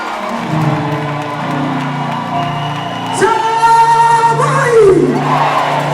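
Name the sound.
crowd applause welcoming Empress Gifty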